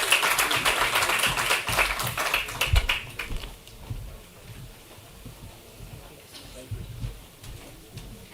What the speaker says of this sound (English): can we have a round of applause for our panelists and moderator?